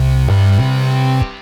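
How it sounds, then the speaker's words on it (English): A loud, sustained synth chord holds, shifting pitch twice in quick succession before cutting off, with a short tail fading after. "Finally, let's go to this harmony sound, which sounds like this."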